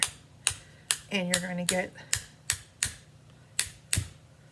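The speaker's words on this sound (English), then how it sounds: "I'm going to smack it against my bone folder." A brush loaded with ink is smacked repeatedly against a bone folder to splatter it, about ten sharp close taps in an uneven rhythm, with a voice speaking briefly over them.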